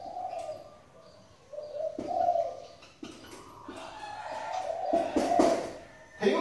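A decoy spotted dove kept in a cage coos repeatedly in short, rhythmic phrases, close and clear, with a few sharper calls and soft rustles between them.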